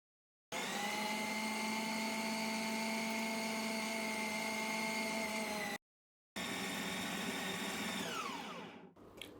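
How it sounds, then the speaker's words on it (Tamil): A mixer grinder running at high speed, blending a kofta mixture of mint, coriander, bread and salt; a loud steady whine in two long runs separated by a brief pause, then winding down at the end. "அது கூட தேவையான அளவுக்கு உப்பு ஆட் பண்ணி நல்லா வந்து மிக்சியில் அரைச்சி எடுத்துக்கலாம்."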